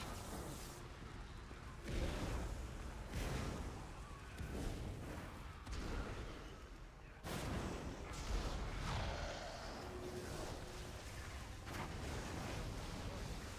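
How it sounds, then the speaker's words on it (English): Spell explosions in a World of Warcraft Dragonflight dungeon fight roar almost continuously, with heavy rumbling booms and whooshes layered densely and loudly over one another. "Trying to help out with these explosions."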